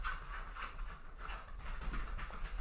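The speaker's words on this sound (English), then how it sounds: "my little doggy is chasing her tail." A small dog chasing its tail indoors gives faint, rhythmic patters and soft panting-like bursts repeating quickly, with no voices over it.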